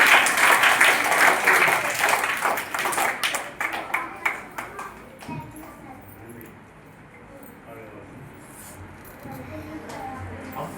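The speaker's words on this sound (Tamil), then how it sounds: "கைத்தட்டி பாருங்க." A group of schoolchildren at a primary school claps hands in a brisk, loud burst that thins into scattered claps over about four seconds, followed by quieter room sound.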